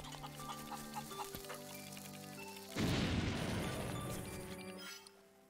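The flying rooster in Zelda: Link's Awakening gives chiptune-style clucking and crowing blips, followed by a loud noisy crash-like burst that fades out; no one speaks over it.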